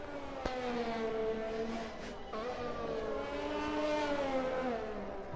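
Formula 1 race car engine in an esports racing game at the Vietnam Grand Prix, a steady high-pitched whine with shifting pitch as the car accelerates, near and continuous, with a sharp click at the start.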